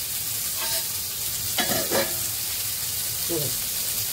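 Bombay duck (bombil) fish fry in a pan, turned over mid-cooking: a constant close sizzle with a few brief scraping clatters from the spatula as the pieces are flipped.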